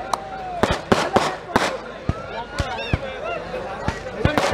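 Fireworks go off at a kabaddi league match, with sharp cracking bursts that repeat irregularly over a murmuring crowd and a voice talking.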